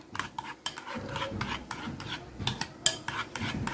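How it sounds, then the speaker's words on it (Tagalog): Sisig tofu being stirred and mixed with sugar in a bowl, giving repeated scraping, clinking utensil strokes in a steady rhythm, close and moderately quiet, with no talking. "So, inimix lang siya."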